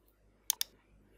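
A mouse button is clicked twice in quick succession on Chrome's relaunch button, giving two sharp, close clicks against a quiet background.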